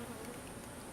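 Honeybees hum in a dense, steady drone right beside a beehive, faint and continuous with no pauses.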